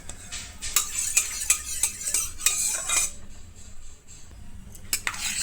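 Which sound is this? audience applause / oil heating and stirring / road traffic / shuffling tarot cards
oil heating and stirring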